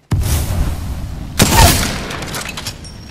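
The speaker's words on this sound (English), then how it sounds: "throwing thermite grenade." A thermite grenade thrown and bursting in the video game Apex Legends: an abrupt opening boom, then a sharp crackling blast about a second later that fades out under ongoing battle noise, with no talking.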